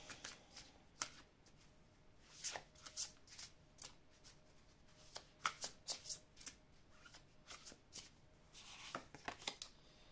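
Tarot cards shuffled by hand in repeated quick riffling bursts, crisp papery flutters and taps spread across the whole stretch, fairly close and quiet with no talking.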